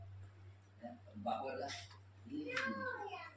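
A house cat gives a couple of short meows close to the microphone, mixed in with a person speaking softly to it.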